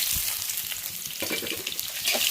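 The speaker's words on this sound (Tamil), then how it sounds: "வெங்காயம் நல்லா வதங்கட்டும்." Onions frying in a pan for bitter gourd fry (pavakkai poriyal), a close, steady sizzling hiss with small crackles and pops throughout.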